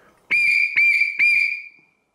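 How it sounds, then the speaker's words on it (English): A Shoreline Marine plastic safety whistle blown hard three times in quick succession, each blast loud, shrill and steady, the last trailing off, with no talk over it. "Now let's go ahead and blow in hard."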